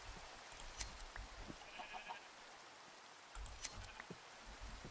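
Gray and white sheep in a Minecraft-style survival game give a few faint, brief bleats over soft rain-like background noise, with no talking.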